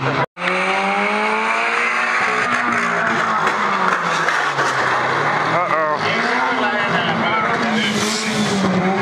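A car skids hard and crashes, its tyres squealing and its engine revving in a long, loud stretch while a voice talks over the noise.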